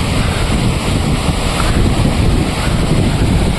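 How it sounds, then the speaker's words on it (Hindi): Fast-flowing river water rushes loudly beneath a popular footbridge on the Hampta Pass trek, a dense and constant roar mixed with wind buffeting the microphone. "पानी का बहाव बहुत तेज़ है"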